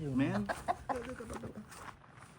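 Chickens cluck in short, choppy bursts close by, mixed with a person speaking quietly.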